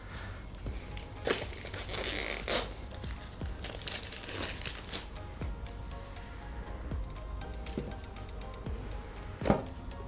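A Dizo Watch R box is unboxed with close, irregular crinkling and tearing of packaging. There are louder rustles and a sharp crackle near the end, and no talk.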